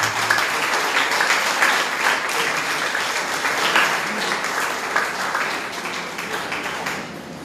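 A church congregation claps as an offering of praise, a full, sustained burst of many hands that holds steady for several seconds before gradually thinning and fading toward the end.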